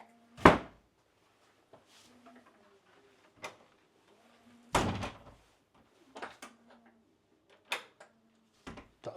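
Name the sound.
room door being opened and closed during inspection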